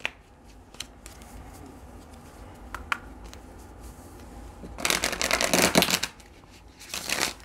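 Tarot cards are shuffled close by: a few soft isolated flicks and taps, then a dense riffling burst of cards, followed by another short shuffle near the end.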